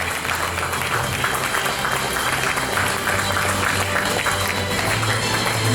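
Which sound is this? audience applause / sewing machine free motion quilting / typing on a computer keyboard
audience applause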